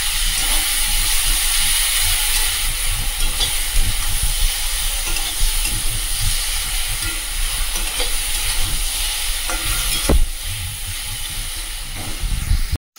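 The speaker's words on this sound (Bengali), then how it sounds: "লতিগুলো দিয়ে দিয়েছি, দিয়ে ভালো করে কষিয়ে নেব।" Boiled taro stolons (kochur loti) are sautéed in cumin powder and turmeric in a pan, producing a steady loud sizzle and hiss with occasional stirring scrapes, continuous and close, ending abruptly.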